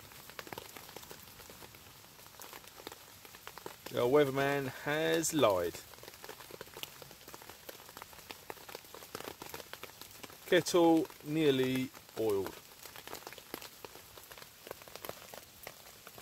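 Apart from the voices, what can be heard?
rain falling on tarp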